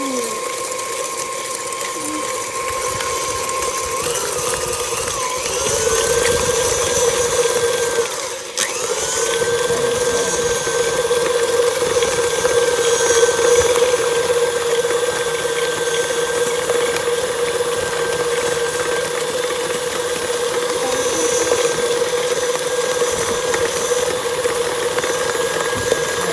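An electric mixer beats sugar cookie dough with a steady high whir that dips briefly partway through, then resumes and runs on continuously.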